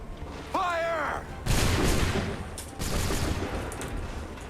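Assassin's Creed 3 musket volleys in a battle, several loud cracking bursts spaced about a second apart, with a shouted order just before the first, and rolling crackle and battlefield noise between shots.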